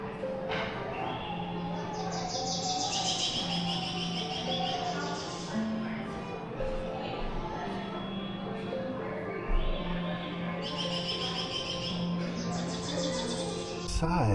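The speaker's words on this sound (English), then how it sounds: "American robin." Clear, whistled American robin phrases repeat in short bursts over a steady background hum, with a fainter bird calling farther off.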